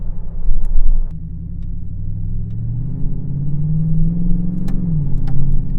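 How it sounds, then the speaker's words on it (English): Chevrolet TrailBlazer SS with an LS2 V8 driving around town: a deep, steady engine rumble with a rising and falling tone as it pulls and shifts, heard from inside the cabin. "Of course, you got the nice LS2 singing along. Engine sounds great"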